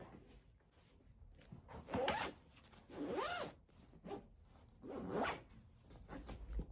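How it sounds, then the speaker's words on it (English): A zipper is drawn shut on a packing bag for a cruise trip in a few quick rasping pulls, close and quiet with brief pauses between strokes. "And I will zip it up."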